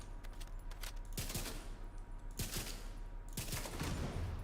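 Automatic gunfire at a shooting range in The Division 2, several loud bursts of rapid shots separated by short pauses over a steady game background hum.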